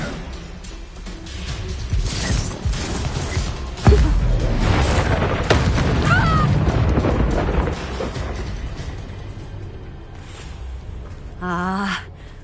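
Blasts from the Confringo fire spell in Hogwarts Legacy, a loud booming impact followed by rumbling, crackling combat noise and effects, with a gasping voice and game music in the mix.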